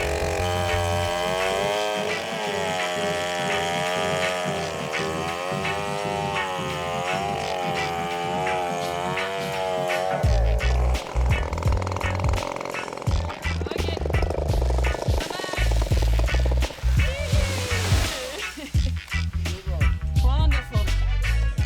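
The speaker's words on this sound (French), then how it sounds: "Allume la tronçonneuse." A chainsaw idles with a wavering whine, then revs hard and bites into a palm tree with loud roaring bursts, with some voices mixed in, in Indonesia.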